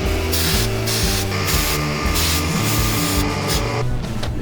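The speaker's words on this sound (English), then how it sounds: "So I'm gonna spray out here again." Short bursts of spray hiss from an aerosol can aimed at an engine abandoned for 20 years, several quick blasts in an uneven rhythm over a low, steady background hum.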